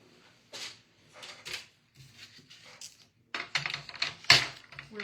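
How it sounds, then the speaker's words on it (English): Paper pieces for a one-sheet-wonder scrapbook layout are trimmed with a cutter, giving several short, close, crisp clicks and slicing strokes separated by pauses, the loudest sharp snap near the end. "I'm going to trim these."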